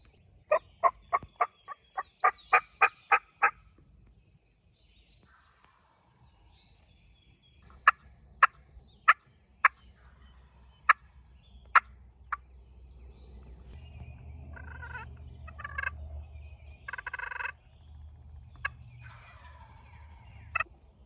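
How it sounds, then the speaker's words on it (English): Wild turkey gobbling during a spring hunt in Alabama: a quick run of sharp gobbles, then several separate loud gobbles spaced seconds apart, with a low rumble of wind or traffic rising underneath and no voices. "he's gobbling"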